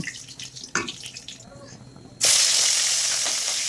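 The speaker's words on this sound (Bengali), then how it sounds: "একে একে সব মাছগুলো এভাবেই আমি কড়াইয়ের মধ্যে ভেজে নেব।" Pieces of katla fish fry in oil in a wok. A few quieter kitchen sounds come first, then a loud, steady sizzle bursts in and holds close by to the end.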